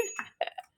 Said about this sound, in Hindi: अब घंटी बजाएगी